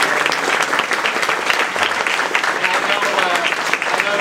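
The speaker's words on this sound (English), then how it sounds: "Give him a round of applause." A large audience applauds at an Earth Day 2010 event, a dense, even round of clapping that carries steadily from start to finish.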